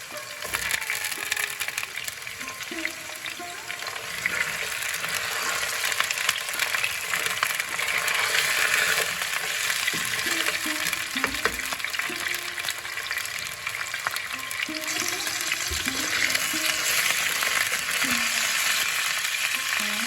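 Potato pieces fry in oil along with a whole small tomato, a continuous close sizzle with intermittent stirring and crackling and no speech.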